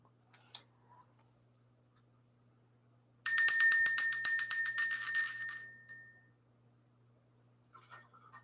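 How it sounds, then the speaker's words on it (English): A small bell rung to clear energy gives a single bright burst of rapid ringing strikes that fade after a couple of seconds, close and clear against silence, with a few faint taps before and after. "We're going to go ahead and ring this bell."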